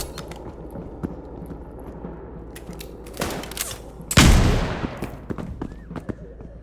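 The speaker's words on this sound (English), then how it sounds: "He's got a Giga shotgun." Giga shotgun gunfire in a video game: a heavy blast about two-thirds through, following an earlier burst, over a busy background of scattered game noise and small impacts.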